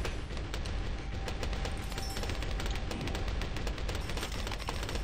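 Mortar towers in the Bloons TD Battles video game fire in a dense, continuous barrage of crackling, popping blasts, steady and loud throughout with no talk.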